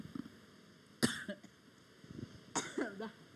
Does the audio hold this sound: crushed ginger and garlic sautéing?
no